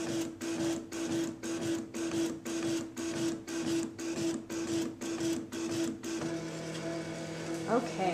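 A Cricut Imagine machine prints calibration lines as its print carriage sweeps back and forth in an even, rhythmic mechanical whir, about a dozen regular passes close by, then it stops and a few small clicks follow.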